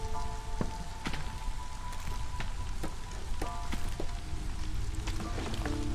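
Steady drizzling rain in the video game Against the Storm, a dense patter of small drops with scattered brighter ticks and faint tonal game sounds, continuous throughout.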